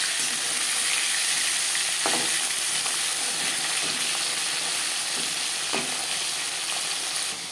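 Steady, loud crackling sizzle of a rohu fish head frying in hot oil, with a few soft scraping knocks partway through and no voices.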